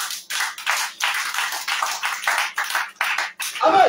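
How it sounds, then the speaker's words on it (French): A church congregation at an intense prayer night in Liberia claps in steady, fast rhythm, a loud close wash of hands sustained throughout with no talk over it. "Acclamez Jésus pour ça."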